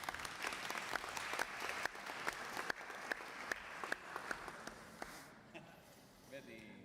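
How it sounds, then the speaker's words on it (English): A room of people claps steadily, a dense patter of hands with some louder individual claps, gradually thinning and fading out. "and I applaud you"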